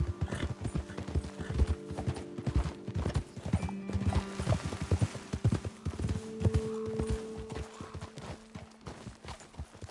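Horse hooves clip-clop steadily on a trail in the video game Red Dead Redemption 2, a close, continuous rhythmic beat with an occasional whinny and faint game music underneath.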